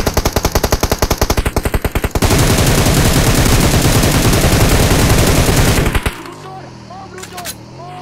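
An M762 rifle fires in PUBG Mobile, loud and close: a fast, even burst of rapid shots, then a denser roar of full-auto fire that stops abruptly, leaving ringing echoes.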